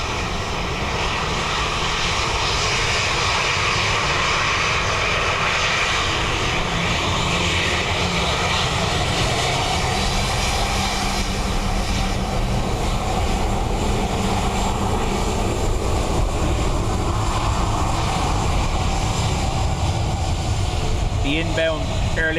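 An aircraft engine roars continuously at Dublin Airport on a windy day, a loud, steady drone that holds for over twenty seconds, with faint radio-like voices mixed underneath.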